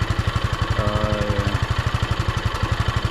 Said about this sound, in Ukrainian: Звук принципі, як і від кожного одноциліндрового двигуна, звук дуже такий специфічний